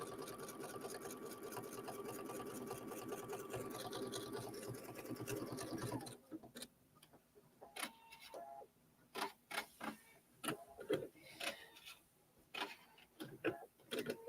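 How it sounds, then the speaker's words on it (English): A sewing machine embroiders through three layers of denim with batting and backing, running as a fast, steady mechanical whir for about six seconds before stopping, followed by scattered clicks and light handling noises. "Now I'm actually embroidering through about 3 layers of denim there"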